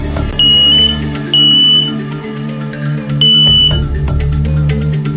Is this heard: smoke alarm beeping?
yes